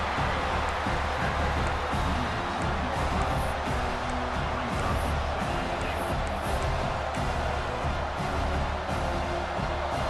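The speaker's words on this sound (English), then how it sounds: "here comes the noise. This crowd is trying to inspire this defense to make a big red zone stop." A large stadium crowd in a college football video game roars steadily during a red zone defensive stand, a dense wash of cheering that holds at a constant loud level throughout.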